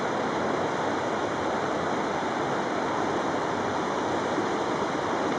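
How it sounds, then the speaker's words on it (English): Bright Angel Creek in the Grand Canyon flows with a steady, loud rush of water nearby, an unbroken broadband wash of splashing current with no voices over it. "and this wonderful creek"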